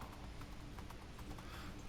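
Quick, steady clip-clop of horse hooves at a run in Minecraft, mid-loudness over a constant background hum, no voices.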